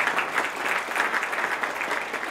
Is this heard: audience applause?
yes